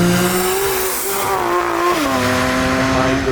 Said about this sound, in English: why you buy a GT3 is because it's a naturally aspirated engine, and what you get there is a glorious sound